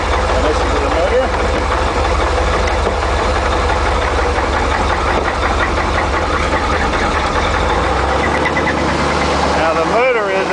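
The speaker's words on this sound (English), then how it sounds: "I set this here and listen to the motor." An Isuzu NPR gas box truck with a 5.7 liter engine idles close by, a steady, loud low rumble that drops away near the end, while someone speaks over it.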